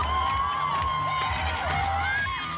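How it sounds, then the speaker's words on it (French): A stadium crowd roars and cheers as Germany lifts the World Cup trophy in 2014, a steady loud wash of voices with whoops and whistles rising over it, sustained without a break. "La foule est en ébullition."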